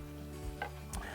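Flour roux being stirred constantly in a pan gives off a faint, quiet sizzle, with a couple of soft scraping strokes over a low steady hum and no voices.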